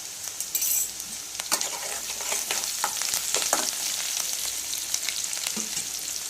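Okra pieces frying in a pan with turmeric, a steady hiss of sizzling oil broken by sharp scrapes and clinks as the mix is stirred, close and fairly loud with no talking.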